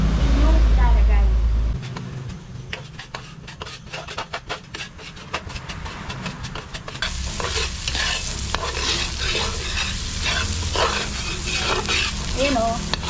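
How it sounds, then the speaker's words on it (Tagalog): Chopped onion and garlic sizzle in oil in a small pan while making adobo, with close scraping stirring strokes and a steady fry that grows louder partway through; a voice talks at times. "Init ko na yung ating kawali o talyasing maliit at ilagyan ko na siya ng mantika kanina, diba? Tapos may sibuyas, bawang."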